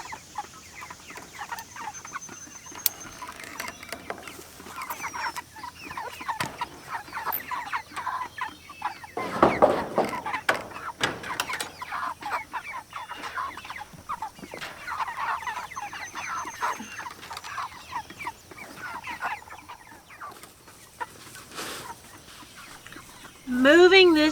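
Chickens clucking and calling inside a low-profile chicken tractor on a farm, a steady chorus of hens close by for most of the stretch, with a louder burst in the middle and a sharp squawk at the end.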